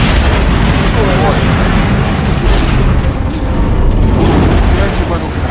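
A bomb blast in Horizon Zero Dawn: The Frozen Wilds rolls out as a loud, sustained rumbling boom with crackling debris, heavy and close, with voices talking over it.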